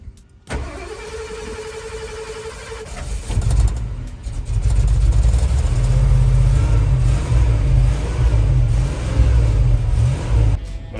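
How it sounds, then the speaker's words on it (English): A car engine cranks and starts, then runs with a deep, uneven idle and light revving, its low rumble stumbling slightly from a fouled spark plug misfiring at low RPM. "I think we got a plug that's a little bit fouled out. It's got a little bit of a miss on low RPMs."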